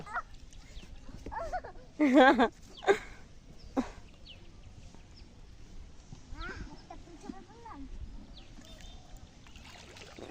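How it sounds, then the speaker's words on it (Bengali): A small wooden boat is rowed on the Nabaganga river while water lilies are gathered, with a few splashy strokes and knocks of the oar against the hull among voices. "আমারে কয় তুমি নৌকা চালাও"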